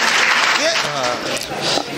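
Audience applause at a Hindi comedy poetry gathering (hasya kavi sammelan), a steady wash of clapping with voices mixed in throughout.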